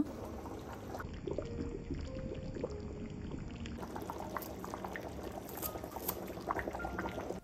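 Rice with a little salt boils in a covered pot, giving a steady, quiet, continuous bubbling and simmering with no voices.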